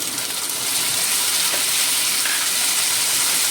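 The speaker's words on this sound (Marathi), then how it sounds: "आनी तो भाजून घेता 1-2 मिनट बरें भाजून घेवपाक" Chopped tomatoes fry in a hot pan for Goan green peas bhaji, a loud, steady, close sizzle that fills the whole moment without a break, and no one speaks over it.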